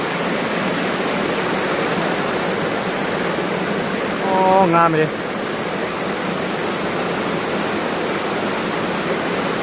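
A waterfall at Ban Muang Sum in Bualapha, Khammouane, Laos roars with a steady, loud, full wash of falling water, and a person briefly speaks over it midway.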